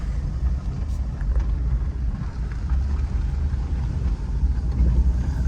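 A right-hand-drive 2002 Dodge Caravan Sport postal van driving along rural roads and braking produces a continuous low engine and road rumble heard from inside the cabin, steady with slight swells, and no one speaking.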